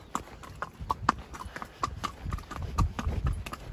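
Horse hooves clip-clop on hard ground in an uneven, steady rhythm, close by, during a trail ride in Nuwara Eliya, Sri Lanka, with soft outdoor background noise.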